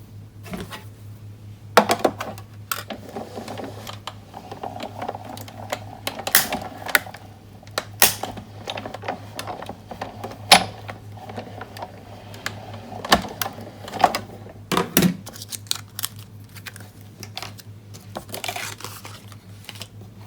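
Gold foil fed through an electronic craft cutting machine, giving irregular clicks and short mechanical taps over a steady low motor hum throughout.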